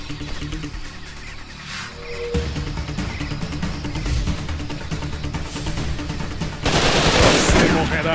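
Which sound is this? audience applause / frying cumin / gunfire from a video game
gunfire from a video game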